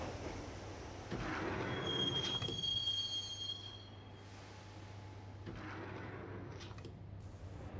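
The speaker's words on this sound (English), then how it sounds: "the train doors had already shut behind me, and I was in for the ride" Subway train ride in the video game Max Payne: a steady low rumble of a rail car in motion, with a thin wheel squeal and sliding-door sounds over it, moderately quiet.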